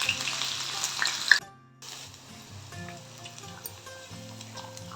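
Onion frying in a little oil in a pan hisses loudly at first, then cuts out briefly and returns as a softer, steady sizzle.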